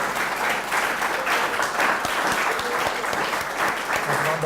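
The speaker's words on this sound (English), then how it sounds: "A big applause for Billy Apple." Audience applause closing an on-stage conversation between artist Billy Apple and Hans Ulrich Obrist: bright, sustained clapping from a large crowd, loud and steady, with a faint voice near the end.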